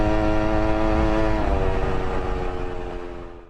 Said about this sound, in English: Here's my friction drive 2-stroke engine 63cc setup